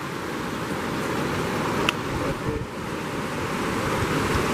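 The Olivares River rushes through its canyon in a dense, steady roar of churning water that fills the whole scene, with a brief faint knock partway through.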